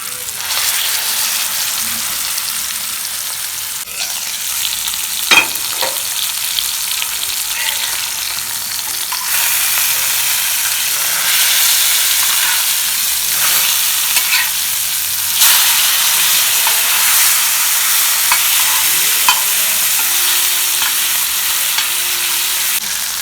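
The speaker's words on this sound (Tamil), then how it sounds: "இதை வறுத்து எடுத்துக்கலாம்." Paarai fish fries in oil in a pan, a continuous bright sizzle with occasional sharp spits and pops, louder in the later part, and no voices.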